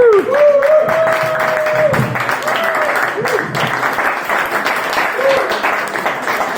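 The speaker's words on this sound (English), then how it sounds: "Everybody, please give it a round of applause." A comedy club audience in Dalston claps and applauds, with a voice talking over the clapping for much of the time.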